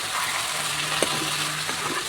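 Chicken kosha sizzles steadily in a pan with a dense frying hiss, and a few soft scraping knocks come through as it is stirred, close and continuous.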